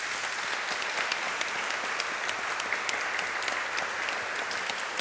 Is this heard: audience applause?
yes